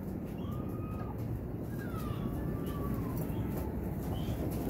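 Low, continuous cooing from a loft of Rampuri pigeons, with a big male nearby. It is a soft, droning murmur with faint thin whistles drifting over it, steady and unbroken, and nobody speaks.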